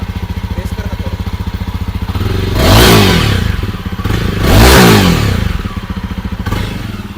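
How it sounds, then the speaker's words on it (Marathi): A Jawa 42 Bobber motorcycle idles outdoors with a steady exhaust thump, then is revved twice in strong surges that rise and fall back to idle, loud and close. "चला आपण आता ऐकू बाईकचा एक्झॉस्ट नोट कसा आहे."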